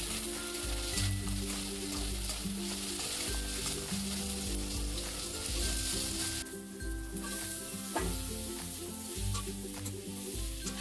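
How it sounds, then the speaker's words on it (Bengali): Masala with tomato, garlic and ginger stir-fries in a hot pan, giving a constant loud sizzle. A spoon stirs and scrapes against the pan now and then. "মশলাটা ভালো করে নেড়ে নিতে হবে।"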